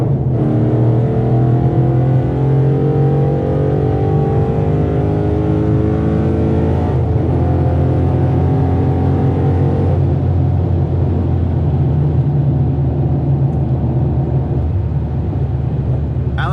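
A Ford Mustang GT Premium engine roars loudly and continuously from inside the cabin, revving up through the gears on a freeway with steady road and wind noise.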